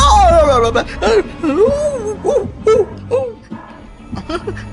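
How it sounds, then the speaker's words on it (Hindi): A dog barks and whimpers in short yelping and whining bursts, close and fairly loud, with warbling cries rising and falling across the moment. "अरे भौंकना बंद कर, क्यों बेसुरे सिंगर की तरह गला फाड़ रहा है?"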